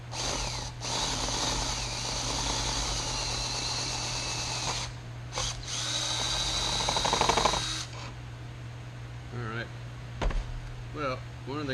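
A power drill bores out the fitting on a manual oiler. A close, whining motor runs steadily for several seconds with short stops and a steady background hum. Brief voice sounds follow near the end.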